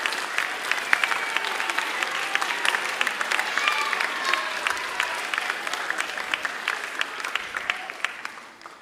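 Audience at a school special recognition ceremony claps steadily and densely for several seconds, sustained applause that tapers slightly toward the end.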